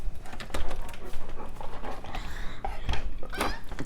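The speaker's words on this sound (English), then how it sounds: "The dog wants to go outside" A dog close by whimpers and pants while wanting to go outside, with quick breathy pants broken by short high whines, plus faint household clatter in the background.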